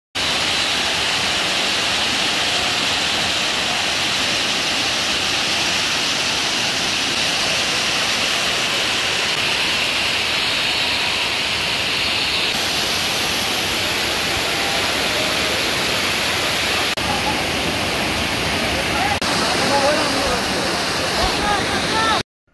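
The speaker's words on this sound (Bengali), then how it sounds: "আর ঝর্ণাগুলো তো কোনো কথাই নাই" Khoiyachhora waterfall in the rainy season gives a loud, continuous roar of rushing, crashing water that holds steady and close for the whole stretch.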